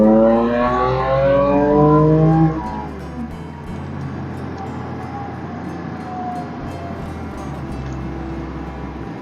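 An Audi S4 in comfort mode pulls hard under acceleration, its engine note rising steadily for a couple of seconds before settling into a loud, steady cabin drone with road noise.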